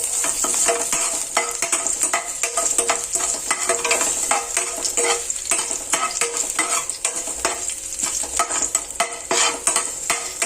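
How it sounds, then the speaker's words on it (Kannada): Mustard seeds and crushed garlic crackle and sizzle steadily in hot tempering oil for a Karnataka-style mango saaru, with dense spitting pops and occasional stirring clinks, loud and close, with no talk. "ಸ್ವಲ್ಪ ಬೆಳ್ಳುಳ್ಳಿ ಚೆನ್ನಾಗಿ ಕೆಂಪಗಾಗೋ ತನಕ ಹೀಗೆ ಫ್ರೈ ಮಾಡ್ಕೊಳ್ಳಿ"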